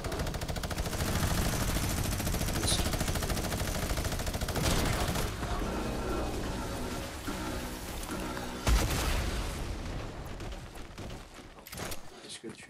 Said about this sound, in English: Wait, what are they shooting from?